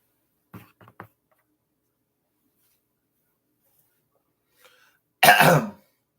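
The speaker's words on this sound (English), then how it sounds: "Sorry for clearing my throat." A few soft clicks, then a single short, rough throat clearing close by, with quiet before and after.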